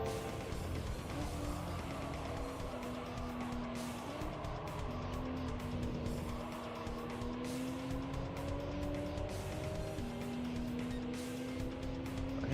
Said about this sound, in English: Man, that little hatchback goes